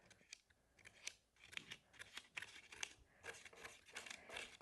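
Quiet, close snipping and crinkling of scissors cutting through material, a quick irregular series of small crisp cuts.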